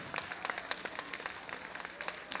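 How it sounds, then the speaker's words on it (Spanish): Light, scattered clapping at a quinceañera as guests applaud the chamberlains, individual claps distinct and fairly faint, with a sparse rhythm over a couple of seconds. "vamos a brindarles el fuerte aplauso, mi gente"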